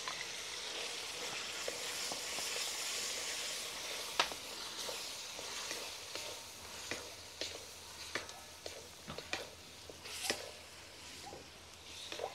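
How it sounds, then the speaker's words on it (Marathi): Mutton frying in a pan with a green chili, ginger, garlic and coriander paste, a steady close sizzle and hiss with scattered sharp pops and stirring clicks. "हे 3 ते 4 मिनिटं छान फ्राय करून घेऊ, कारण आलं लसूणचा कच्चापणा पण दूर होईल"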